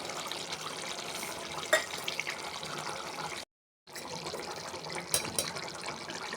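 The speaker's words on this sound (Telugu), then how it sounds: "ఇప్పుడు కొంచెం వాటర్ వేస్తున్నా. కొంచెం వాటర్ వేసుకొని బాగా ఉడికించుకోవాలి." Water poured into a pan of eggplant and chicken curry, a steady close splashing rush that stops abruptly for a moment, then resumes with a few drips and splashes.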